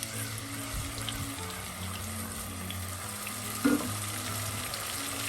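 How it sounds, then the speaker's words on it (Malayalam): Ginger garlic paste sautéing in hot oil for a kingfish masala roast, a steady broadband sizzle and frying hiss throughout with a brief louder spatter or stir near the end; no talking. "അതൊന്ന് വഴറ്റി കൊടുക്കാം."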